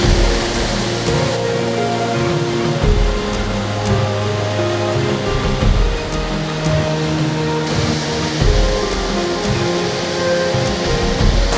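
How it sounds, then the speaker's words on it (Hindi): Düden waterfall in Antalya roars as a dense, steady rush of falling water, loud and unbroken throughout. "तो ये है जी ड्यूडन वाटरफॉल।"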